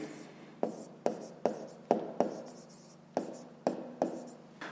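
Pen or pencil scratching numbers on paper in a maths lesson, a series of about ten separate short strokes, each with a crisp onset and quick fade, close and quiet with low room hum behind.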